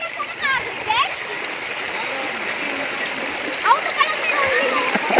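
Feet splash through a shallow stream while wading across it in a rural barangay in Lagonoy, with rushing water throughout and people talking over it.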